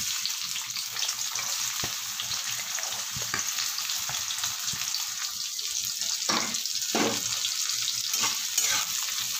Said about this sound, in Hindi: एठी आमर तेल गरम हो सारा एबे सेतिरे पियाज पकेइना